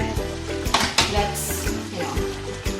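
Green, red and eye chilies are stirred into sizzling Japanese-style beef curry, with a spoon scraping and clanking against the pot over a steady frying hiss, close and moderately loud.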